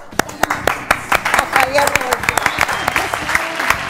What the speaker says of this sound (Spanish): Fuerte el aplauso para recibir.